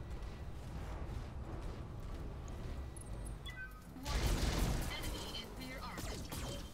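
Weapons fire in the mech combat game Roguetech: a steady rumble of battle noise swells into a dense burst of crashing impacts and explosions midway, then eases off while a voice speaks over it.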